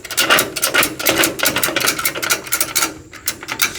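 A ratchet strap on a U-Haul car hauler trailer is cranked tight over a tire, giving a close, loud series of rasping, clicking strokes in a steady repeated rhythm, with no talk.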